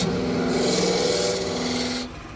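Gouge cutting a larger-diameter wooden piece spinning on a lathe, a steady close rasping scrape that runs on without a break and then eases off at the end.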